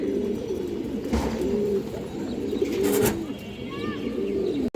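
Pigeons at a pigeon seller's coo steadily and close, the low rolling coos repeating throughout, with a few brief chirps and rustles mixed in.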